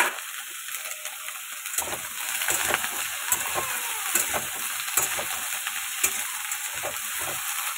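Vegetables fry in a pan with a steady sizzling hiss, joined by frequent scraping and stirring clicks, close and moderately quiet with no talking.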